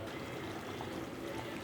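Water is poured into a pot of cooking chicken curry with ground masala paste, giving a steady, close, continuous pouring and splashing wash that runs unbroken with no voices.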